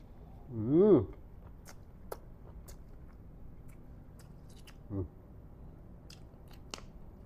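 Raw beef larb with white cabbage and basil is bitten and chewed in big mouthfuls, with soft wet crunches close by, after a brief burst of speech.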